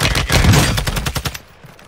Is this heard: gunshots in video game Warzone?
yes